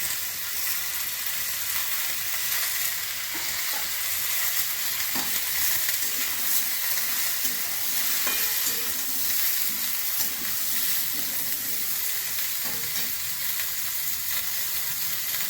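Eggplant and green chilies sizzle steadily in a hot pan for a spinach and bori curry, a continuous close frying hiss with occasional stirring scrapes and no voices.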